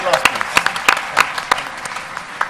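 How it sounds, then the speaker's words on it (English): A conference audience in an auditorium bursts into applause, loud sharp hand claps in an irregular, uneven rhythm that thins out toward the end, with some voices underneath. "Give a big applause, please."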